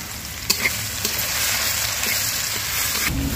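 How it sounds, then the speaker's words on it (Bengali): Ground spice paste with ginger and garlic hits hot mustard oil and fries with a steady, loud sizzle and crackle, a few stirring knocks near the start, no voices. "সরিষার তেলগুলো গরম হয়েছে, এখন হচ্ছে আমি আপনার বাটা মশলাগুলা আর আদা রসুন যেগুলো বাটছি ফাটায় ওগুলো দিয়ে দিচ্ছি"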